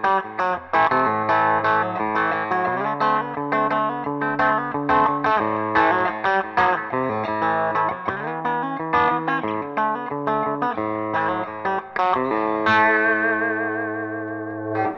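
Overdriven electric guitar on the bridge pickup of a 2013 Suhr Classic T, bright and crunchy, plays a steady run of chords and single notes, loud and continuous, with a ringing chord at the end.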